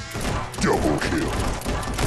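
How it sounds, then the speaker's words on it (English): Gunfire crackles through a hectic shoot-out in the Guns'n'Stories: Bulletproof video game, a steady busy barrage of shots and whizzing bullets mixed with game effects, heard while someone talks over it. "Oh, the bullets are flying"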